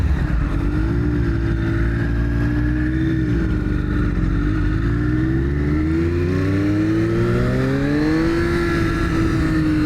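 A Triumph Daytona Moto2 765 triple-cylinder motorcycle accelerating hard, its loud engine note climbing steadily through the gears with brief dips at shifts, close and continuous with no speech.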